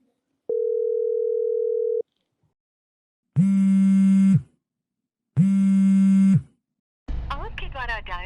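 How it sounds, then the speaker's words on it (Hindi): An unanswered phone call: a long steady tone, then two evenly spaced buzzy ringback tones about a second each, followed by a recorded voice speaking. "यार वो तो फोन उठा ही नहीं रहे।"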